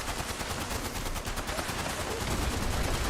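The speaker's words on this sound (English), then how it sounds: "I've got a vampire's damage while aiming minigun." Minigun in the game Fallout 76 firing a dense, rapid, continuous stream of shots, loud and unbroken across the whole stretch.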